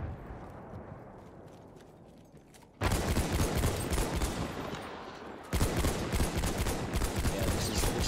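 Battlefield 1 gunfire erupts in loud, rapid automatic bursts that start suddenly after a quieter stretch, pause briefly, then resume with sustained close-range firing.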